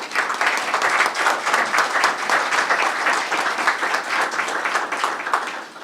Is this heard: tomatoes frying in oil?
no